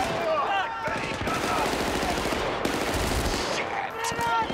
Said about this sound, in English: who's shooting me from down there?